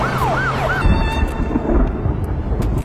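Ambulance siren wailing in rising and falling sweeps, fairly close at first, then giving way to a loud low rumble and scattered knocks.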